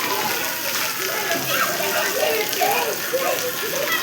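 Heavy night rain pours steadily in Sarkhej as a dense, close wash of hissing water, with voices talking faintly underneath.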